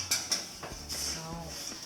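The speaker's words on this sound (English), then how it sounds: "You want to open the oven. Stick your pan right in the middle." An oven door opens with a metallic clank and a baking pan slides onto the rack with light scraping and rattling, quiet and close in a home kitchen.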